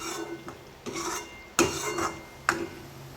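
A spatula stirs cowpea leaf vegetable in a pan, giving a steady scraping, sizzling rasp broken by several sharper clinks and knocks against the metal, close by and with no voices.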